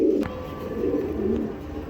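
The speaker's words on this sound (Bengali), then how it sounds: "এক পেয়ার হাই ফ্লার কবুতর দিলাম পাকিস্তানি" A pair of Pakistani high flyer pigeons coo in low, rolling murmurs, close and fairly loud, with one sharp knock early on.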